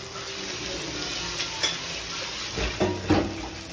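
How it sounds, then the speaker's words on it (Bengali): Onions sizzling in a pan during meat curry preparation, a steady soft frying hiss with occasional clinks of utensils against the pan near the end. "পেঁয়াজ ভাজা চলছে"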